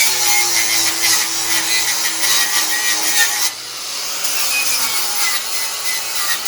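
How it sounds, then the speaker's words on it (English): An angle grinder fitted with a wire brush whines at a high, steady pitch and rasps against metal nearby, then drops to a lower, rougher tone partway through. "Now I can use the angle grinder, and this brush"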